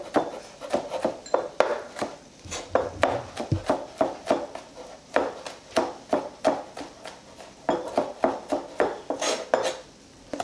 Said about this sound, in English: just get right in there and chop away until they're tiny little bits that are going to go into the sauce